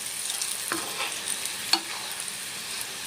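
Garlic and curry leaves crisping in hot oil for a quick pickle tempering, a steady soft sizzle with a couple of sharp stirring clicks, close and alone.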